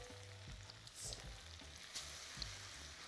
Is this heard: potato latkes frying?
yes